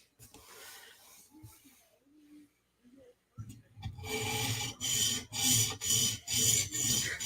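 X45 steel knife being sharpened on a stone to remove the burr, starting quiet and sparse, then rhythmic rasping strokes grow louder and repeat evenly about twice a second, close up.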